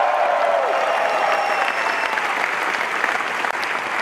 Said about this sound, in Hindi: कितने लोग तालियां बजाएंगे, कितने लोग चिल्लाएंगे